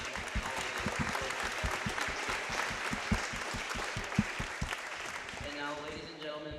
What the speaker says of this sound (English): let's give them a round of applause to show our appreciation for them and all they do